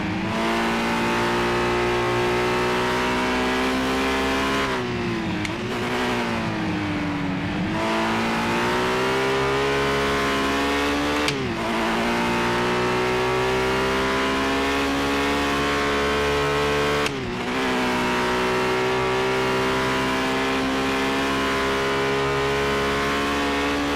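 A race car engine in a racing video game holds a loud, steady high-pitched drone, rising and dipping with throttle and briefly dropping at gear changes or braking, continuous and close with no talk.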